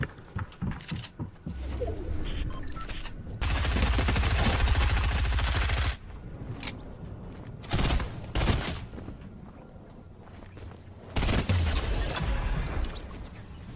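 Fortnite Chapter 2 gunfire in a chaotic duos or squads match: loud bursts of rapid shots and sustained automatic fire come in several clusters with short gaps, close and dominant, with no talking.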